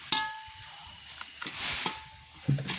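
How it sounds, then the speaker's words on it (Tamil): Ingredients for homemade chili powder roast in a pan in a village kitchen, giving off a soft, steady hiss with a few sharp crackles and scrapes. "நாங்கள் இப்போ கருவாயிலே வறுத்தெடுப்போம்."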